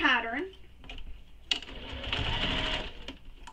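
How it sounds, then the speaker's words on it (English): A sewing machine stitches a seam on a mini backpack, a rapid mechanical whirring burst after a short spoken voice at the start, running fairly close for a couple of seconds before stopping. "Then we're going to sew this with the seam allowance given in the pattern."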